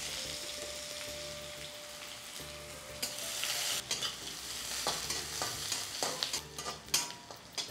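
Onions fry in hot oil with mustard seeds and curry leaves, first as a soft steady sizzle, then with louder scraping and stirring clatter from a spoon in the pan.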